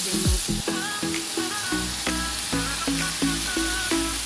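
Chicken pieces laid into a hot pan for a tomato chicken dish, sizzling and spitting in a steady frying hiss, with repeated sharp clinks of utensils against the pan and no talk.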